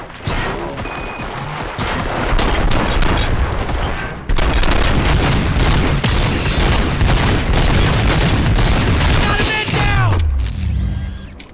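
Sustained heavy gunfire and booming impacts in the RoboCop: Rogue City video game, a loud continuous barrage that runs for about ten seconds with crashes and mechanical clatter, then ends in a short electronic flourish.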